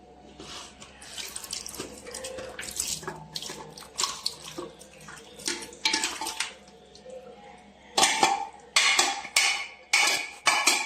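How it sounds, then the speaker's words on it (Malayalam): Tapioca mixed with cooked beef and bones stirred in a pot, heard as a run of wet scraping and clattering strokes, irregular and close, growing louder and choppier toward the end, with no talking. "നമുക്കത് ഇളക്കി അങ്ങ് സെറ്റാക്കാം"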